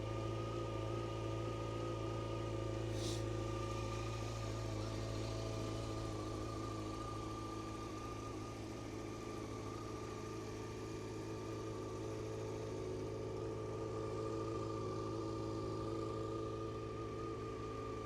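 A cold Yamaha XJ6 Diversion motorcycle engine idles steadily close by, a low, even rumble with no speech over it.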